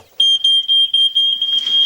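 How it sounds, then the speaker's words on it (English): Smoke alarm in a house sounding a loud, shrill electronic beep, a piercing pulsing tone repeated in quick bursts and heard alone. "what do you do when there is an alarm?"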